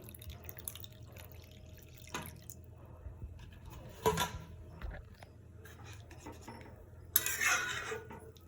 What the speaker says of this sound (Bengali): এবার যেহেতু গাজরটা একটু সেদ্ধ হবে, তার জন্য পরিমাণ মতন জল অ্যাড করছি